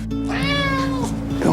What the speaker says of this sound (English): ある日迷い込んできた一匹の野良猫。